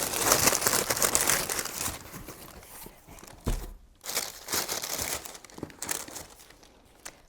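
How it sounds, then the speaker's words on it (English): Someone rips open a subscription box package by hand: continuous loud crinkling and tearing of packaging, up close, with short rustling bursts as it is pulled apart. "I'm going to rip it open and be surprised."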